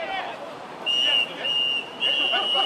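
A referee's whistle sounds at an American football game between Club Bears and Osaka Police Seals: three long, shrill blasts in a row, loud and near, over a faint background of voices.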